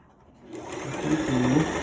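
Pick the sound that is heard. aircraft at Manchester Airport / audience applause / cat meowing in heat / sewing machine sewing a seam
sewing machine sewing a seam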